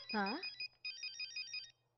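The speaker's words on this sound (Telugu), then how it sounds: "ప్రియా నీ మొబైల్." A mobile phone rings with a repeating electronic pattern of short bright tones that pulse evenly for over a second, following a brief voice at the start.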